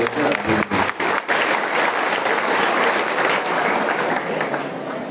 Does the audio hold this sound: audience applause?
yes